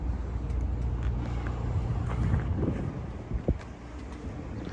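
A 2017 Dodge Challenger R/T ScatPack with a 6.4-liter HEMI V8 and K&N intake idles with a steady, deep low rumble, close by, with some wind noise over it.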